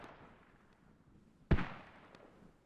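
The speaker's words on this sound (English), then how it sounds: "see where the mortars are going to land" A single mortar shell explodes on landing in a military combat video game, one sharp, loud blast that rings out and fades over about a second against quiet background noise.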